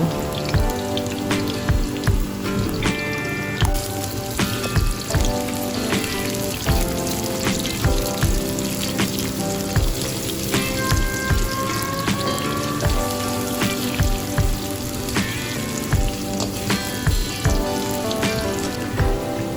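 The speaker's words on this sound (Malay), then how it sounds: "Kemudian kita tumis bawang putih dan separuh bawang Holland yang dipotong tadi dengan sedikit minyak hingga kekuningan dan layu" Garlic and sliced onion sauté in a little oil, giving a dense, continuous crackling sizzle with scattered pops. It stays close and steady throughout, with faint tonal sounds in the background and no talking.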